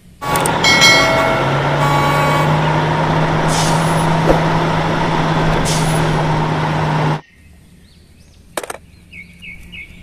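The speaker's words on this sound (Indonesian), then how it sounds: "Wih, lihat, ada mobil derek." A tow truck's engine rumbles loudly with a steady low hum and airy hiss for about seven seconds, then cuts off abruptly, leaving near silence broken by a few faint clicks.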